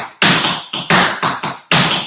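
Tap shoes strike a hard floor in a tap dance sequence of loose third, heel, step, heel, six crisp close metallic taps in quick succession with no pause between them, each ringing briefly before the next.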